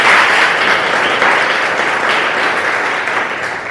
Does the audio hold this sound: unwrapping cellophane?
no